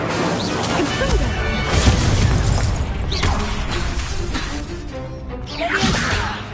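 A Confringo spell blast from Hogwarts Legacy erupts in loud crashing bursts and whooshes amid game effects and a busy mix, with no clear talk over it.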